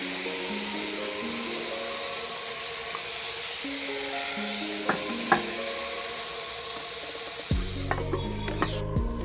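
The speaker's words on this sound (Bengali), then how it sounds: "এটাকে ভালো করে নেড়ে চেড়ে আমি কিছুক্ষণের জন্য ঢেকে দেব যাতে পটলটা ভালো মতন ভাজা হয়ে যায়" Pointed gourd (potol) fries in a pan with a steady, loud sizzle, while a spoon scrapes and stirs it in a few sharp clinks near the end.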